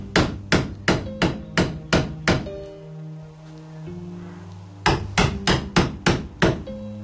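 Steel chisel driven into rotten, powdery wood of a slash hook handle by sharp hammer blows, two quick bursts of about six evenly spaced strikes each with a brief pause between, loud and close, no talking.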